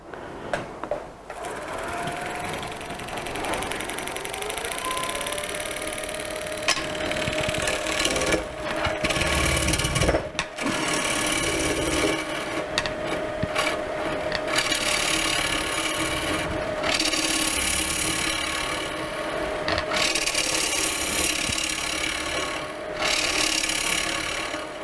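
A drill bores into the center of a wooden bowl held on a wood lathe, producing a loud, close, continuous grinding whir with rough rasping texture and brief dips as the bit bites.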